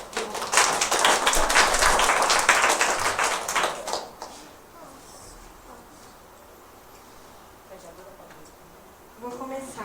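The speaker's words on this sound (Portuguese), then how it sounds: "Palmas, gente." A brief burst of audience clapping in a talk on psychology and bisexuality, dense and loud for about four seconds before fading into quiet room tone.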